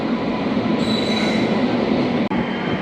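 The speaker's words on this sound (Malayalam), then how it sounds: "ന്യൂഡൽഹിയിൽ നിന്നും തിരുവനന്തപുരത്തേക്ക് പോകുന്ന കേരള എക്സ്പ്രസ് എത്തിക്കഴിഞ്ഞു" The Kerala Express, a long-distance passenger train from New Delhi to Thiruvananthapuram, rolls into a station with a steady loud rumble and high wheel squeal, heard up close with no talk.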